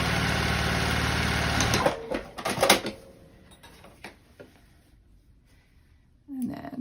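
A sewing machine edge stitches a zipper pouch, running in a steady, loud whir that stops abruptly after about two seconds. Handling clicks and light rustles follow, then the machine briefly starts up again at the end.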